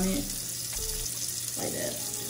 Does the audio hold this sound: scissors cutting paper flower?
no